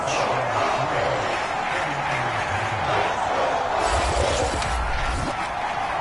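Stadium crowd at a Falcons American football game in a video game, a loud continuous roar of fans filling the whole span, swelling slightly near the end with scattered cheers.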